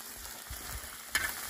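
Spicy salsa macabra hits shrimp frying in a pan for camarones endiablados, giving a soft, close sizzle with faint stirring and one brief sharper hiss of liquid meeting hot metal.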